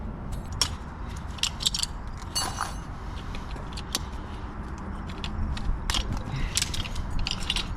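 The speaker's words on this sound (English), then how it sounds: "So we're going to pull the pins out." Sharp metallic clicks and snaps as safety pins are yanked from a row of fire extinguishers, irregular bursts close by over a low background rumble.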